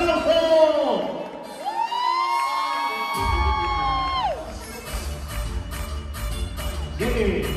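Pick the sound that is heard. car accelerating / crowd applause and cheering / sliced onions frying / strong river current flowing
crowd applause and cheering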